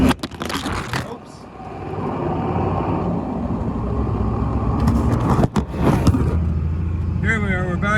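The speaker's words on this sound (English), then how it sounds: "Listen to that diesel." A 1999 Dodge Ram 3500 diesel pickup with a manual transmission drones steadily while driving, a continuous low engine rumble from inside the cab with brief shifts and a short dip partway through, and some speech and clatter at the start.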